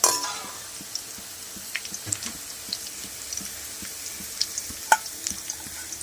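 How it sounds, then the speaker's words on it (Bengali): Potatoes fry in hot oil in a pan for chicken biryani, a soft steady sizzle with scattered small pops and light clinks of utensils, fairly quiet and close. "আমি আলুটা ভেজে নিচ্ছি"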